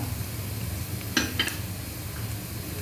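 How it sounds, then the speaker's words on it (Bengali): Onions fry in a pan with cardamom, cinnamon, bay leaf, ginger-garlic paste and turmeric. A steady sizzle runs throughout, broken by a couple of brief utensil scrapes as the mixture is stirred. "পেঁয়াজ হালকা ভাজা হয়ে গেলে দিয়ে দিচ্ছি এলাচ দারুচিনি তেজপাতা আদা রসুন পেস্ট হলুদ গুঁড়া"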